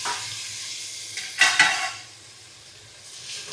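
Tomatoes frying in a pan for a vegetable kuzhambu while being stirred, with a soft continuous sizzle and a couple of sharp scraping clinks of the spoon against the pan midway, close and unaccompanied by talk.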